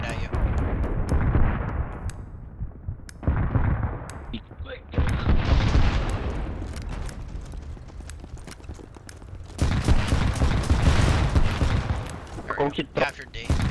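Gunfire and explosions in the BattleBit Remastered shooter game form dense, heavy bursts of loud blasts and rattling shots that come in waves with brief lulls, while players talk over the noise.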